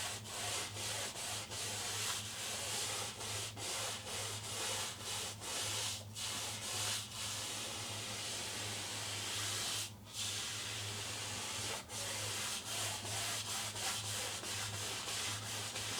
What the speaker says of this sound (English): And scrape in a little bit more color.